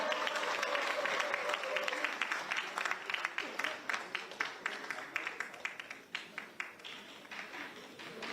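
Members of a political assembly in Korea clap to welcome a speaker, the applause dense at first and then thinning into scattered, separate claps as it fades.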